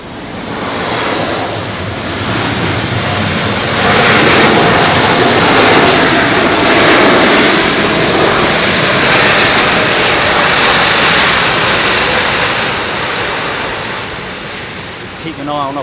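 A jet airliner lands at Heathrow with a tailwind, a loud, broad roar that swells and then slowly fades. A voice speaks faintly under the noise.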